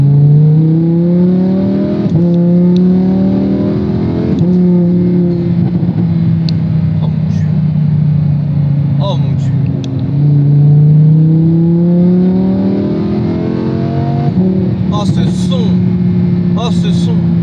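Lamborghini Huracan in Corsa mode revving on track, repeated rising and falling engine sweeps with a deep exhaust note and crackling pops toward the end, loud and close, with someone talking over it.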